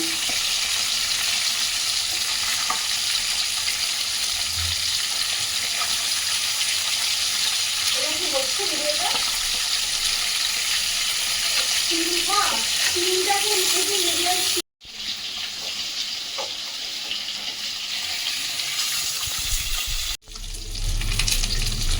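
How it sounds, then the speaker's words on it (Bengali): Oil sizzles and crackles steadily as snakehead fish fries, a dense hiss running throughout with a few clinks and scrapes, briefly cut off twice. "আমি মাছটা এবারে একটু উল্টে দিচ্ছি।"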